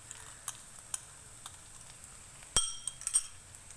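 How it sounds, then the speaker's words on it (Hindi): Eggs cracked one at a time into a bowl for an egg dish, heard as a few sharp, light clicks and taps with a cluster of louder cracks near the end, close by and otherwise quiet with no talk. "मैंने अंडे तोड़ के डाल दिए।"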